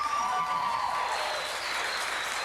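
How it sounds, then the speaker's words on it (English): An audience at a city council meeting applauds and cheers, a dense, steady wash of clapping filling the room for a short stretch, fairly close and even in loudness. "Thank you, cheering section on this side of the room."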